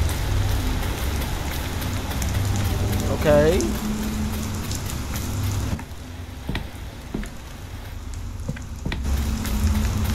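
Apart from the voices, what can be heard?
rain in video game Fears to Fathom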